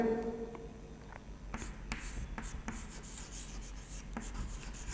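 During a maths lecture, chalk or a marker scratches across a board in short strokes and taps, a soft scraping rhythm over quiet room noise.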